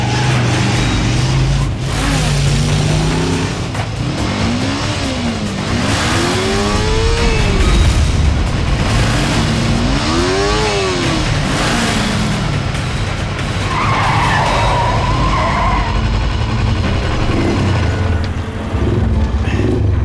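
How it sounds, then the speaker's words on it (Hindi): A truck speeds along a road with a loud, continuous engine roar, rising and falling engine pitch sweeps and tire skid squeals over about twenty seconds, close and dominant throughout. "ये ट्रक क्यों इतनी तेजी से जा रहा है?"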